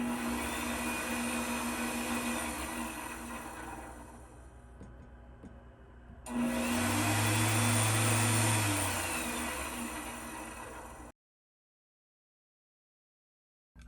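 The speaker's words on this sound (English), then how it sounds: "It sounds like the spindle's working also." CNC mill spindle running during a retrofit from Mach3 to a Masso G3 Touch controller: a steady machine hum, then a louder whirring surge with a low tone partway through, before the sound cuts off abruptly.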